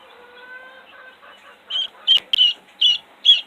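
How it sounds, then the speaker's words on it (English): Baby guinea fowl on a family farm giving five sharp, close chirping calls in a quick series, after a few seconds of faint background hum. "But here's one of our baby guineas."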